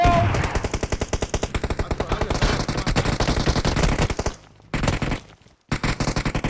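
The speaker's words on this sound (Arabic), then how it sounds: "شاتجن ها يخوف" Rapid automatic gunfire bursts in a video game, loud dense volleys of repeated shots with a brief gap and stutter near the end before firing resumes.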